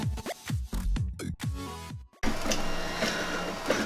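A 3D printer printing Spitfire Mk XVI model parts whirs with shifting stepper-motor tones and short buzzing moves, then settles into a steady hum, heard close and alone.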